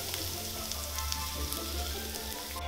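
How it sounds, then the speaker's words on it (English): Breadcrumbs and lemon zest sizzle in a pan, a steady, soft crackling hiss with a low hum beneath and faint pops throughout. "Make sure you stir it around so it doesn't burn, and in go our breadcrumbs."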